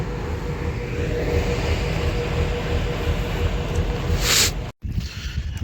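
An Alco locomotive, number 13458, pulls a train toward Mandapam with a loud continuous rumble and clatter of rolling wheels, a brief bright hiss near the end, then a short cutout.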